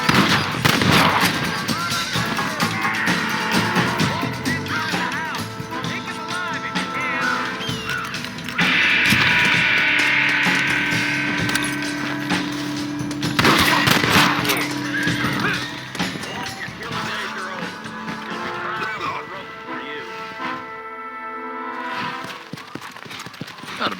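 Gunshots crack out during a Red Dead Redemption shootout, sharp reports scattered among horse hooves, whinnies and ambient game sounds, with a voice speaking at times.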